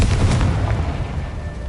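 A Confringo blasting spell in a Harry Potter video game erupts into a loud, close, rumbling explosion that booms heavily at first, then rolls and fades over under two seconds.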